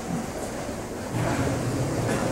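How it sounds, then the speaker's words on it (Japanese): A Seibu Line train pulls into platform 3 at Hagiyama Station for a coupling operation, a steady low rumble that swells slightly as it nears, alone without voices. "まもなく3番ホームに電車が参ります。"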